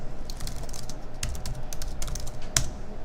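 Steady typing on a computer keyboard while entering terminal commands, with clustered key clicks and a few sharper strokes over a low background hum.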